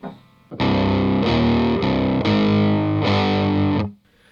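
Loud, close distorted electric guitar strikes barre chords from a song's chorus, a few ringing chord changes in a short burst that fades out at the end.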